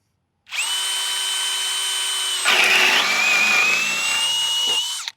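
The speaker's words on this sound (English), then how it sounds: "We're going to do one run of me not pushing on it." A cordless drill running at speed 2 with a fully charged 8 amp hour Profactor battery, driving a bit into wood; a steady high whine that shifts pitch midway as the bit bites, then stops abruptly.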